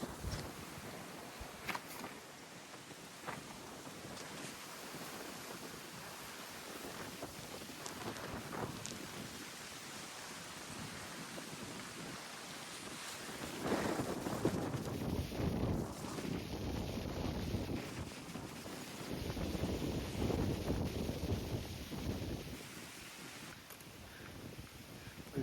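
Rain falls steadily on open farmland, a broadband wash that swells louder midway, with wind buffeting the microphone and no talk.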